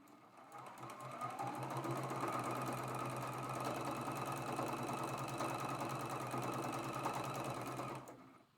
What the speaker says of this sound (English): I'm going to take that off of the sewing machine.